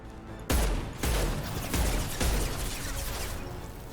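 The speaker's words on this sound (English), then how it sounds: "Firing an impact shot" Impact shot gunfire in Mass Effect 2: a heavy, booming blast followed by several rapid, loud successive shots and crackling rumble, close and dominant with no talk.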